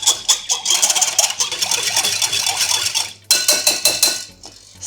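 A spoon mixing cookie batter with maple syrup and apple cider vinegar in a bowl, rapid close clinking and scraping strokes in a quick steady rhythm, pausing briefly before resuming.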